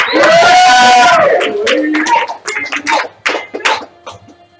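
Studio audience at a live game show cheering and shouting loudly together, swelling at the start and then breaking into scattered whoops and claps as the noise tapers off.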